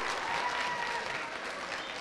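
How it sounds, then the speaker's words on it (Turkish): An audience at a school debate competition applauds a team, a dense sustained clapping from a crowd filling the room, steady and fairly loud throughout. "Arkadaşlar Akören'i alkışlıyoruz."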